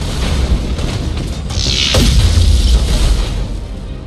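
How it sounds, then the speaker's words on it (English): Warship main batteries firing in the space battle game Battlefleet Gothic Armada 2: a dense, continuous rumble swells into a heavy booming blast with a bright crackling burst, then stays loud and low. "Main batteries fire"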